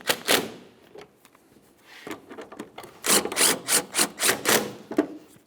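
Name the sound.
tightening upper headlight bolts on a Nissan Altima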